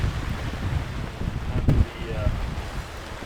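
Wind gusts outside a garage bay, a low rumbling roar that buffets the microphone with a sharper gust partway through, and a voice speaks faintly over it.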